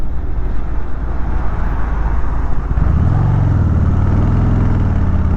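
A 2020 Harley-Davidson Softail Deluxe (FLDE) motorcycle engine rumbles steadily and loudly while riding through corners, with the pitch dropping and then climbing again as it rolls on throttle, alongside constant wind and road noise.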